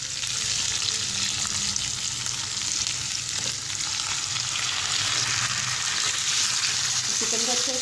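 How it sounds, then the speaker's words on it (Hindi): Chicken fries in spice paste in a hot pan, a dense steady sizzle with soft scraping stirs, close and even in loudness, ending with a brief clatter and no speech. "चिकन को अच्छे से मिक्स कर देंगे।"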